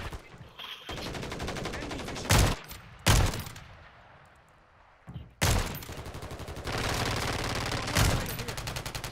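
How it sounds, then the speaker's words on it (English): Call of Duty gameplay brings loud bursts of automatic gunfire with sharp individual shots between them, broken by a short lull and then resuming in rapid succession. "Who's shooting at me, man?"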